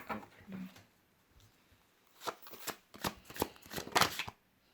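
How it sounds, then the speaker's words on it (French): Tarot cards being shuffled by hand at close range, a quick run of crisp riffling flicks and papery slaps that grows busier toward the end, with soft talk near the start. "je vais battre les cartes."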